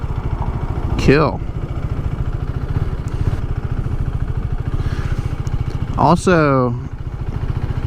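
A KTM RC 390 motorcycle runs steadily, with a continuous low engine drone throughout, under someone talking near the start and again around the sixth second.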